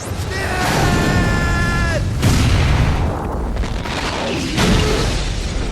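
A loud, sustained explosive rumble with booming bursts and crackling debris, mixed with music and shouting voices, as in a dramatic film scene.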